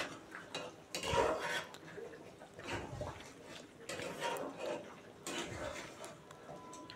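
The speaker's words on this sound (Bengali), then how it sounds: "এই যে অল্প একটু দিলাম, দিয়ে এবার একটু নেড়ে চেড়ে দিয়ে ঢাকা দিয়ে দেবো আবার।" A spoon scrapes and clinks in an egg and pointed gourd curry in a pan with a run of soft, uneven metallic knocks, fairly faint and close, with a lid handled amid the stirring.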